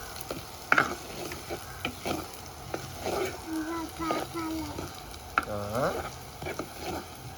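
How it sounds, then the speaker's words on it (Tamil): Garlic sautés in a pan while being stirred, with intermittent clinks and scrapes of the spoon over a low sizzle, and a person speaks in between. "உள்ளியை போட்டுட்டு வதக்கி போட்டு கொஞ்சம் நேரம்"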